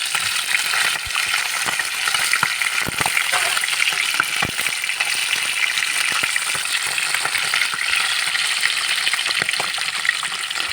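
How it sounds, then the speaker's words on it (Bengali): Tengra fish fry lightly in hot oil in a pan, giving a steady loud sizzle with scattered crackles and pops throughout. "মাছগুলো কিন্তু খুব কড়া করে ভাজবো না একদম হালকা করেই ভাজবো"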